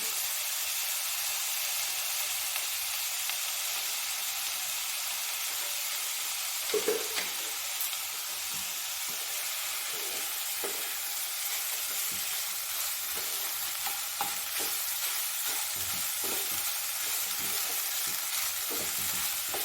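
Chicken keema fries in a pan with a steady close sizzle and hiss, broken by occasional scraping stirs and light clinks, with no voices.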